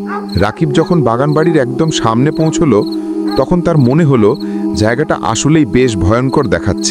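Night crickets chirp in a steady shrill drone behind a narrator's voice, the insect trill running continuously under the speech.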